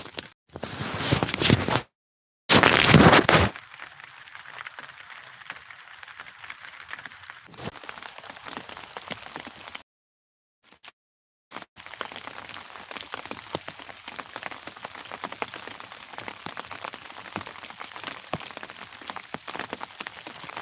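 Steady rain patters and hisses on surfaces outdoors during a squirrel hunt, with a few loud close bursts early and brief gaps before the dense drumming carries on throughout.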